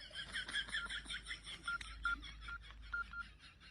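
A series of telephone keypad tones beeps in quick succession, a number being dialed, faint and close with a low hum beneath.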